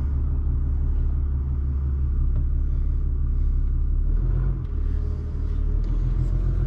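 A 2020 Ram 3500 truck pulling a Ford F-250 on wet grass, its engine a steady deep rumble held close and loud throughout, with a slight dip and surge near the end.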